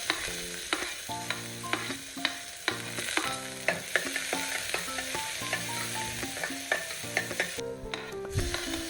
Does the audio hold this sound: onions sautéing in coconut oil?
yes